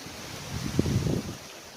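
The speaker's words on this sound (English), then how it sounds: "You guys feel that wind?" Wind blows across a beach on a breezy day, a steady close rush buffeting the microphone, with a brief swell of louder gusting in the middle.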